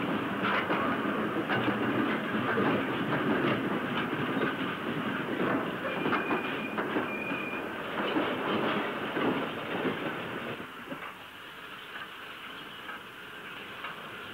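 A steam train hauls empty wagons back toward Bidston Docks on the Wirral, a rumbling rail passage with rhythmic clickety-clack of wheels over joints that gradually fades and quietens near the end.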